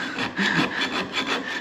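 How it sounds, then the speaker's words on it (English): A chainsaw file rasps steadily against a drill bit being sharpened, a close, even back-and-forth scraping of repeated strokes with no talk. "I just have a chainsaw file here."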